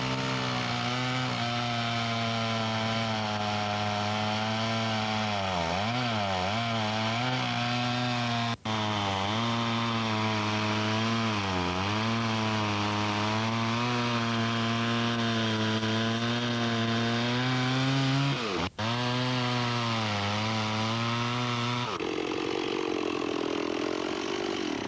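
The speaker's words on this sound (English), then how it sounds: "the chainsaw was used with great skill to reduce the new paddle to the correct dimensions" A chainsaw cuts a new wooden paddle for a canal lock down to size, its engine holding a steady loud drone that rises and falls with the cut, with two brief sharp breaks before idling down near the end.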